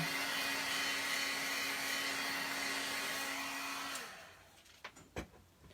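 A heat tool blows a steady, loud whoosh with a constant motor whine while warming a bronze foil-embossed card, then shuts off at about four seconds, leaving a few soft handling clicks.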